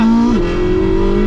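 Porsche 918 Spyder exhaust roaring loud and close from just behind the tailpipe, a strong droning tone that dips briefly then holds steady as the car accelerates.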